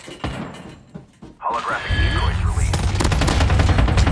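Close, rapid automatic gunfire from the mobile shooter Call of Duty Mobile, starting as scattered shots and then building into a continuous loud burst after a short thud and a sliding sound.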